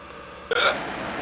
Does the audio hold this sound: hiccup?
yes